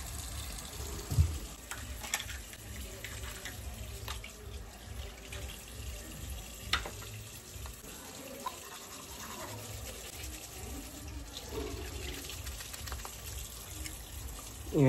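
Tap water running steadily into a sink while someone brushes their teeth in a reed hut, a constant faint hiss with a few small knocks and scrapes, close by and quiet.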